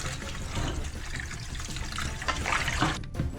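Pig ears and pig face mask being rinsed under running tap water in a kitchen sink, a steady splashing flow with some irregular sloshing, close and continuous, with no talking.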